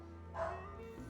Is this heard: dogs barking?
yes